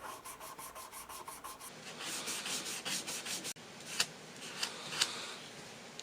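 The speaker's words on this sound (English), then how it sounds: "I'm just letting the sandpaper do the work and letting the pad of my finger wrap around that fret." Fine 1500-grit sandpaper rubbed by hand over guitar frets, a close, quiet scratchy rasp in repeated back-and-forth strokes, with a few sharper scrapes toward the end.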